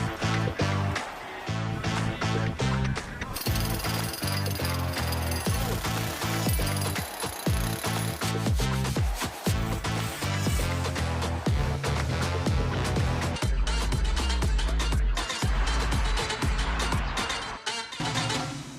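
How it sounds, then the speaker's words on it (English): A demolition hammer breaking up part of a house during a renovation flip: rapid, loud, close pounding bursts with brief pauses between, grinding on alongside background music, no talk heard. "Joe, get that demo hammer out."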